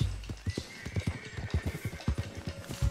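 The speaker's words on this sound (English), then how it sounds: "This is one of those horses that you can find." Horse hooves clip-clop at a steady walking rhythm in the open-world game Red Dead Redemption 2, close and moderately loud with no talk over them.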